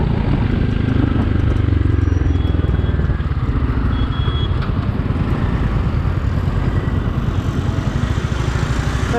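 A 2021 Royal Enfield Classic 350 engine idles with a steady low, rapid thumping pulse, loud and close, continuing alone without talk.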